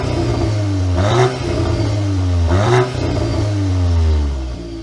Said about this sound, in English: we should probably hear what that exhaust note has to say, of course, in Nürburgring track mode.